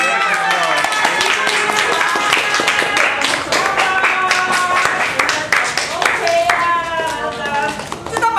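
An audience at a Christmas gathering claps steadily, a dense run of handclaps with voices and shouting mixed in throughout.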